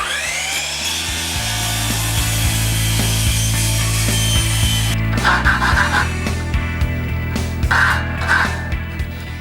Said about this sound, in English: mark the other end, and I go cut it on the chop saw